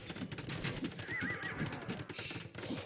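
In the video game Age of Empires II, horses whinny and neigh with clip-clop hooves beneath them, a busy, fairly loud battle mix with several neighs overlapping.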